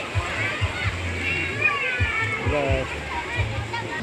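Natural spring water from a source at the foot of Mount Slamet, at the Guci hot-water park in Tegal, flows and splashes steadily nearby while someone talks over it throughout.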